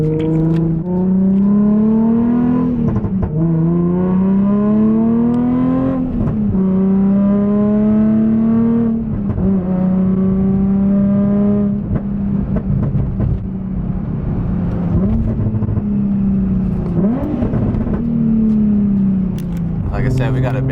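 A tuned supercar engine, either a 1000 hp McLaren 720S or a 1000 hp twin-turbo Audi R8 V10+, idles loud and close, repeatedly blipped into sharp revs that then settle back, with voices talking over it.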